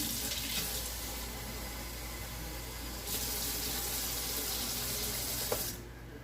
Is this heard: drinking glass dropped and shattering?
no